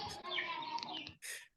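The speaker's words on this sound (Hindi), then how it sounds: "लगता है ये परिंदू के चहचहाने की आवाज निसार के पास से आ रही है" Birds chirp through a live video-call line during a chat about kits, a dense bright twittering that carries near and steady for over a second, breaks off briefly, then returns in a short high burst.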